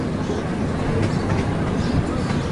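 Zoo train ride on rails in Columbus, Ohio, a dense steady rumble and rattle of wheels on track heard from on board, with faint voices in the background.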